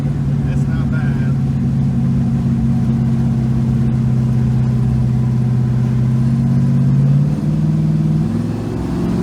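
An LS-swapped 1977 Chevrolet Nova pulls forward with a steady low engine drone heard from inside the car, holding a constant tone before easing off near the end, with people talking over it.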